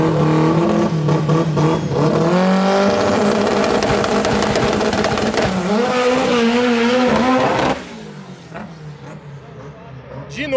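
A Subaru 4x4 race car accelerates hard off the line: a loud, close engine roar climbing steadily in pitch through one long pull, then cutting off abruptly into a quieter idle and background noise, with people talking faintly underneath.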